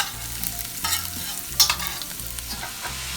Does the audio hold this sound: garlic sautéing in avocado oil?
yes